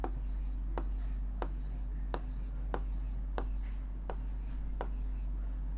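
Marker or chalk writing numbers on a board, a regular series of short taps and strokes at steady intervals over a constant low hum, with faint speech in the background.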